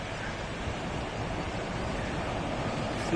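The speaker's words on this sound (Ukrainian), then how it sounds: "Дивіться, яка хвиля." Sea waves break on a shore on a near-20-degree day, a steady, loud roar of surf with wind rushing over the microphone and no voices.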